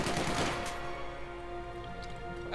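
MG42 machine gun fire in the video game Company of Heroes 2, a loud rapid burst at the start that cuts off into a fading ring with a faint crackle and another shot at the end.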